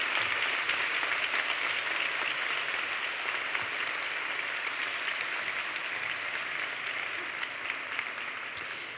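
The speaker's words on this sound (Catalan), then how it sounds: "Veig que esteu entrenats amb els aplaudiments" Steady, dense applause from a large audience fills a university graduation ceremony hall, continuous and even throughout with no voices on top.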